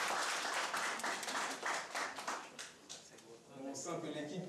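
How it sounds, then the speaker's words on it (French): Studio audience at a Haitian quiz show match clapping in a dense, sustained round of applause, with a voice talking over it toward the end. "Applaudissez ces gens."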